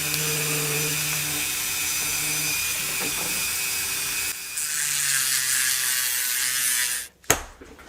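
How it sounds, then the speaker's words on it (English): A Dremel rotary tool fitted with a speed chuck gives off a steady, close, high-pitched whine. It runs for several seconds, briefly changes tone partway through, then cuts off with a sharp clunk near the end. "Trying out one of these speed chucks on the old Dremel here."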